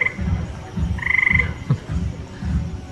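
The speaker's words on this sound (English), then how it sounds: "Eastern gray tree frog." An eastern gray tree frog gives a loud, fast trilling call over a chorus of low croaking frogs, heard in an Indiana State Museum exhibit.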